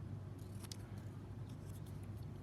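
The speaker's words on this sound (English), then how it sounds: "we'll use our scissors and we will cut it" Scissors cutting paper for a robot-design craft: a few faint, quick snips over a low background hum.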